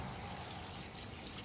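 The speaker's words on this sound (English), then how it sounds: "So here's the second pitcher of water" A pitcher of water pours continuously into a paper soak tub frame for printmaking, a steady, soft, close rushing stream with no pauses.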